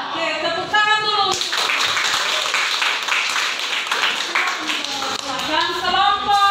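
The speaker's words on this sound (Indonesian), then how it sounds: "Oke, tepuk tangan dulu." A high school classroom breaks into applause, a dense, loud wash of clapping lasting several seconds, with voices talking at the start and end.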